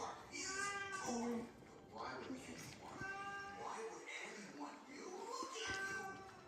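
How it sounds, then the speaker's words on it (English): Several cats meow repeatedly at a door, wanting to go outside, with a few drawn-out, wailing calls spread across the clip, heard up close in a home kitchen while people talk quietly in the background. "I think the cats want to go outside."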